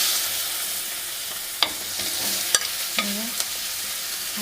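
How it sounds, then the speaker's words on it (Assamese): Chopped onions fry in a pan of oil for egg curry, a steady close sizzle with a few sharp clicks of a spoon stirring against the pan. "এতিয়া ইয়াক এপৰা কাটি থোৱা পিঁয়াজখিনি ইয়াতে দি দিম।"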